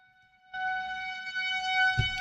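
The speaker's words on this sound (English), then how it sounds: "That's our tornado siren." A steady mechanical tornado warning siren wails from a distance, a sustained tone that starts suddenly and holds, with a brief thump near the end.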